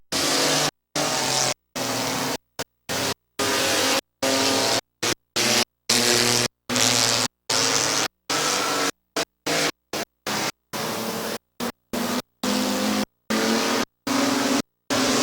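Race cars roar around Midvale Speedway, a dense continuous engine drone with shifting pitch as the pack passes, chopped by frequent brief dropouts in the sound.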